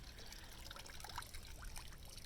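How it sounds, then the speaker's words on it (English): Water trickling and draining out of the mesh of a plankton tow net just lifted from the sea, a faint, continuous dribble and patter. "You can see how the water flows out of the mesh."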